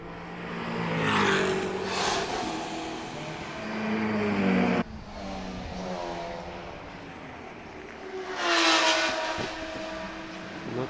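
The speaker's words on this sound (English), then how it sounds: "Then 2 TCR category Audis." Two Audi TCR category race cars pass during a Baltic GT and WSMP GT race at the DeWALT Grand Prix, engines rising and fading in successive loud sweeps with a sharp shift, no talking.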